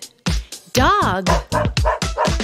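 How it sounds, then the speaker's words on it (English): A dog barks in a preschool animal-learning cartoon. A rapid run of close, loud barks and yips includes one drawn-out warbling howl, with an animated, voice-like quality. "Dog."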